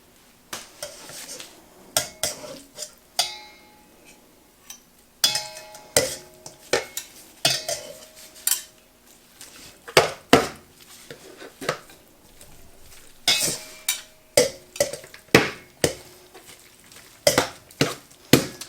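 Forks scrape and clink against a dish while shredding cooked pork, giving a series of irregular sharp metallic taps and scratches in clustered bursts with brief quiet gaps, close and fairly faint.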